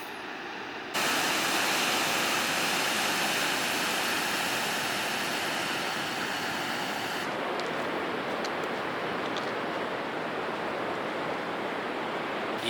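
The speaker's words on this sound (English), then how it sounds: "You can just feel the power of the waves." Big ocean swell surging and breaking on a beach at dusk, a loud, continuous roar of surf with no voices.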